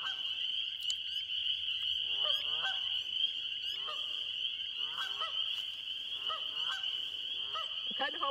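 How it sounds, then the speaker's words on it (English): Geese honking repeatedly at a marsh, a chorus of near and distant calls over a loud, continuous high insect or frog drone that persists throughout. "I'm kind of hoping the geese go to bed pretty quick."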